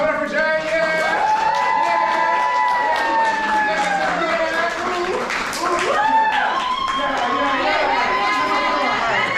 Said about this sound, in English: Clap it up for J.